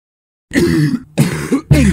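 A few harsh coughs in quick succession after a brief silence, close and fairly loud, with short pauses between bursts.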